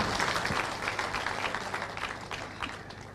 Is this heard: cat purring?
no